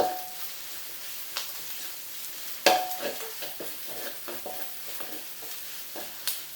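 Red curry paste stir-fried with chili and garlic in a wok for a bamboo shoot and pork belly dish, giving a low steady sizzle broken by spatula scrapes and one sharp clack near the middle.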